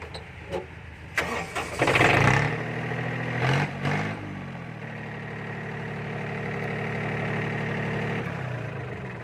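A tractor engine, likely a roughly 35-horsepower Yanmar-type, cranks with a whirring starter and catches after a couple of seconds, then settles into a steady, rumbling idle close by, with no talking.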